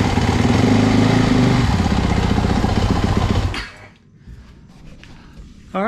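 A Yamaha WR 450F dirt bike engine runs loud and close, its rough, throbbing idle filling the first few seconds before it cuts off abruptly into near silence.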